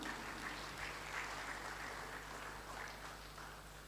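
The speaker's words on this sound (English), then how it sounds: "A round of applause for him," Applause from a seated audience at the official draw ceremony for the Betsy Obaseki Women's Football Tournament, greeting Yusuf Ali; a steady, moderately distant patter of clapping that holds evenly for several seconds and fades slightly at the end.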